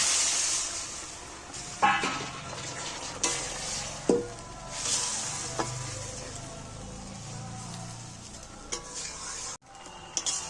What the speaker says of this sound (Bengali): আমি এবার মশলা ধোয়া জলটা সাইড দিয়ে দিয়ে দিচ্ছি